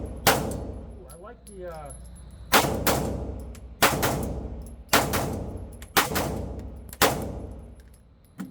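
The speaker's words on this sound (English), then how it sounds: "let's put some first shots through it. So we've got MagTech 115 grain" A Springfield Armory Echelon 9mm pistol firing MagTech 115 grain rounds, six loud, close shots at roughly one-second intervals, each with a sharp crack and ringing decay, with a brief spoken remark near the start.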